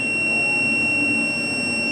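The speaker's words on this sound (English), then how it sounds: "You should hear that beep, that audio beep" A continuous high-pitched electronic beep from a circuit tester, sounding steadily without a break, close and clear over a faint low hum.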